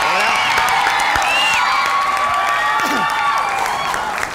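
Studio audience on a Thai game show cheering and clapping over bright, swooping musical sound effects, a continuous lively crowd bed throughout.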